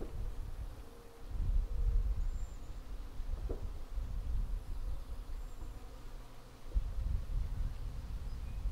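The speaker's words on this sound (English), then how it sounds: "show you how I collect and hive a swarm of honeybees" A swarm of honeybees gathering outdoors on a tree branch fills the air with a steady, moderately distant buzzing hum, mixed with faint rustling and handling noises.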